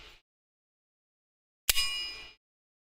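A metal knife slider is struck once, giving a bright ringing clang that sustains with a shimmering metallic tone for well over half a second before cutting off, alone in near silence.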